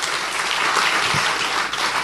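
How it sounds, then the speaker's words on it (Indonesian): A church congregation breaks into loud, dense applause, a steady roar of many hands clapping together throughout, with no single claps standing apart. "Beri tepuk tangan yang meriah buat Tuhan."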